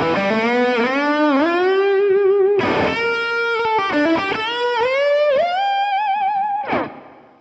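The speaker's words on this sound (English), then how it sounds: "that technique was a combination of bends and slides" Electric guitar in G played with a mix of string bends and slides, notes gliding up and down through effects with a distorted edge, a run of expressive phrases with smooth pitch swoops and a final fading note.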